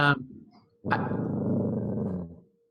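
A guard dog growls close by in one sustained, rumbling growl of about a second and a half, after a brief burst of sound.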